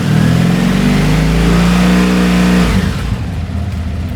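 Cold motorcycle engine idling low, a loud, close, steady rumbling throb that drops away near the end, with no talking.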